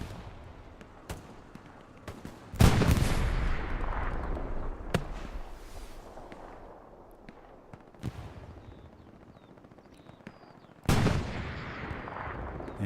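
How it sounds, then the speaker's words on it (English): An Axis machine gun in Hell Let Loose fires in sharp bursts at moderate distance, with separate loud cracks and booms across a rumbling battlefield background, including a heavier blast near the start and another near the end. "No, that's an Axis MG."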